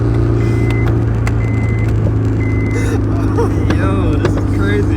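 A Honda S2000 cruising with a loud, steady engine drone and road rumble close inside the cabin, while someone talks over the constant hum.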